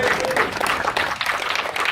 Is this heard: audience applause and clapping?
yes